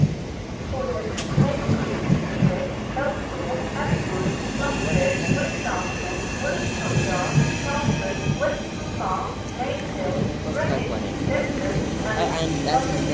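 A Southeastern train rumbles at a platform at Dartford station, steady rolling and clatter with rhythmic wheel clicks and a high whine, while station announcements and nearby talk carry over the noise.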